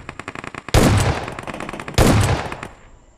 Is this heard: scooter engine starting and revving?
no